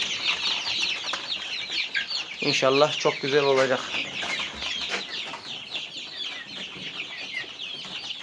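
Hens cluck steadily in a coop alongside chicks, with one louder burst of clucking in the middle and someone speaking briefly over the birds.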